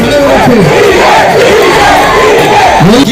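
A dense, roaring crowd of TVK supporters cheers and shouts continuously at a packed political rally, with rising whoops and wavering yells cutting through the loud, unbroken din.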